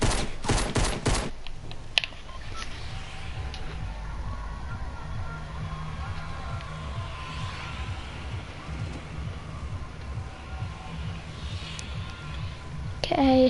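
Gunfire from a Fortnite duos match, a sharp opening volley of close shots, then a lighter rhythmic rattle that continues beneath steady talking from players.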